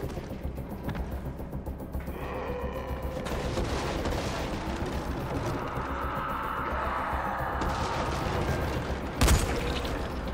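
Gunfire crackles in a Dying Light game session amid a busy, noisy mix, with a sharp loud shot standing out near the end over a steady rumbling background.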